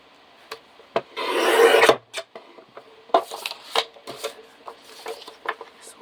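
A paper trimmer slices through a sheet of paper, one sustained rasping cut about a second long, surrounded by close, sharp taps, clicks and rustles of paper being handled; no one speaks.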